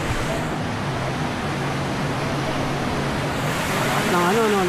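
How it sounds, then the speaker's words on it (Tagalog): A strong current of river water near Mintal, Davao City rushes in a steady, loud broadband wash, with a brief whistle-like tone near the end and no clear talking. "Lakas ng current ng tubig yun eh."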